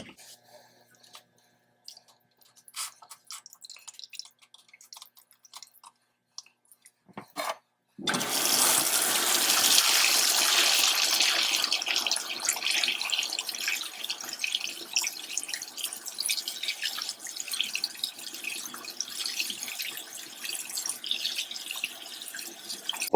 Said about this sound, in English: Take it all apart and rinse it all out.